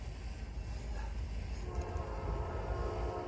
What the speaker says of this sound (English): it's another good horn on 271 with an M-2